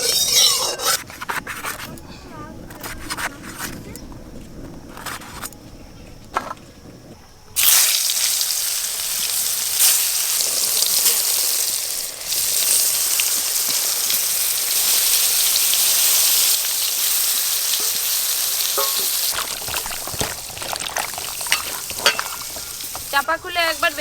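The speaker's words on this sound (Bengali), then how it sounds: "বেগুন ভাজা করব এবার।" Eggplant slices frying in hot mustard oil, as Bengali begun bhaja, produce a loud, continuous crackling sizzle that bursts in after a quieter start and carries on steadily.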